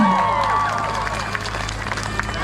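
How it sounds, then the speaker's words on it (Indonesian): A crowd at a live concert in Bantimurung applauds and cheers. The noise is dense and continuous, with bright whistling rising from the babble and a voice speaking over it. "Tepuk tangan sekali lagi teman-teman"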